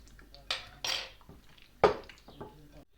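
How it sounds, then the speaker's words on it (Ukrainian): A spoon clinks and scrapes against a bowl while stirring a marinade, a few sharp metallic taps among softer swishing, close and fairly quiet. "беремо тепер е, це розмішуємо гарно тако."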